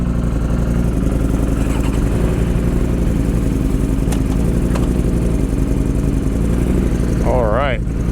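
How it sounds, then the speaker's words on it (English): A Suzuki GSX-R 750 sport bike engine runs loud and steady throughout, a continuous near rumble with a brief rising rev near the end. "riding the Gixxer 750."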